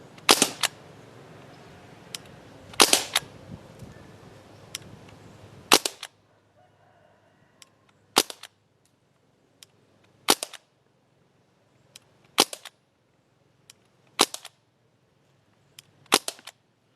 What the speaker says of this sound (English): So that was 48 shots.